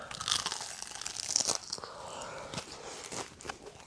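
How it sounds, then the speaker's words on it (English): Crisp bites into a crunchy fried risotto ball with a creamy filling, giving close, repeated crackling crunches that are loudest in the first second and a half and then settle into quieter chewing crackles. "A nice crunchy outside with an awesome risotto filling on the inside."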